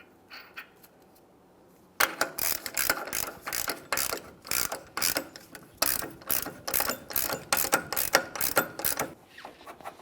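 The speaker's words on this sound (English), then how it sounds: "When you go to install your axle nut, you only want to do this with a hand tool." A hand ratchet clicks in quick repeated bursts while tightening the front axle nut on a 2008-2017 Mitsubishi Lancer, close and loud, starting after a quiet moment and continuing steadily with no talk.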